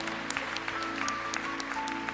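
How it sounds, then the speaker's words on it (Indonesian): A church congregation claps during a sermon, a soft, sustained patter of many hands with a few sharper claps standing out, while a low musical drone and a steady tone continue underneath. "beri tepuk tangan yang meriah begitu."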